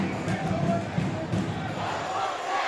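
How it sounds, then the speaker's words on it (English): Home crowd at a BCU men's basketball game against Texas Southern, jeering a player after a foul: a continuous, fairly distant roar of many voices and murmuring, steady in level with small swells. "is Jordan Carl Nicholas on the box out, and he is hearing it from this BCU crowd."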